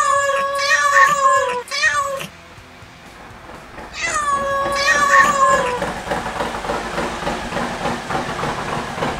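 A cat meows repeatedly and loudly up close in a motorcycle shop, with several drawn-out cries, followed by a hissing, rushing noise.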